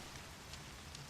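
Steady rain falling in the Horizon Zero Dawn video game, a continuous soft hiss of drops spread evenly across the short stretch, with no voices over it.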